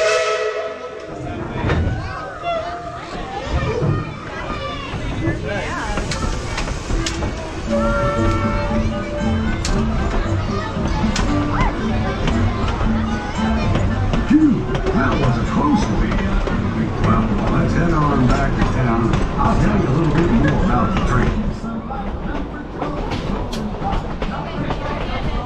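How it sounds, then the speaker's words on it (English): A Tweetsie Railroad steam train pulls away with a long whistle blast, hissing steam and steady rolling clatter that fills the scene. People talk over the noise of the train. "And with that, Casey Jones, let's get this train back to town."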